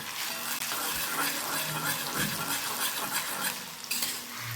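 A mustard and poppy seed paste for a pabda fish dish fries lightly in a pan, sizzling steadily while a utensil stirs and scrapes against the metal, close and without talk.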